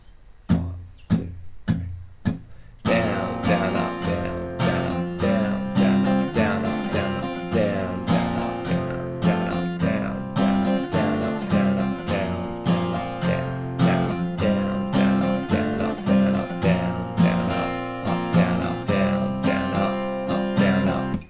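Steel-string acoustic guitar strums the intro of a song. A few spaced strums open it, then a steady, bright, close down-and-up strumming pattern runs for about twenty seconds without any voice.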